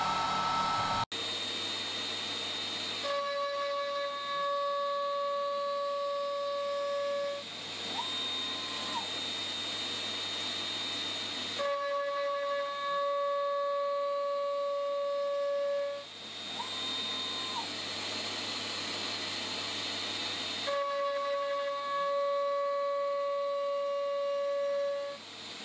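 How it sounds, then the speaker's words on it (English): A JointMaster joint-cutting machine makes an L-shaped cut 3 millimetres in from the origin, running as a steady motorised whine with tonal hums that rise and fall in long repeating cycles, continuous and fairly loud. "An L-shaped cut will now be made, a known distance in from the origin"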